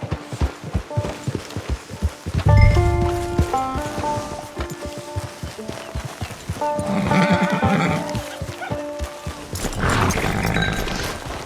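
Horses in the game Red Dead Online neigh and whinny loudly while hooves clip-clop steadily at a trot, mixed with a faint game soundtrack and ambient noise.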